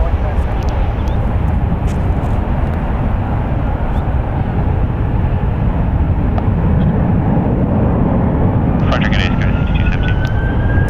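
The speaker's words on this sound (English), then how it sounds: "There's that one departure on runway 28 left." An airplane departing on runway 28 left at San Francisco International Airport, a loud continuous roar of jet engines that stays strong throughout, with a brief faint beep near the end.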